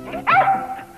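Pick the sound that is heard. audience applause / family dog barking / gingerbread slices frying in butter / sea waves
family dog barking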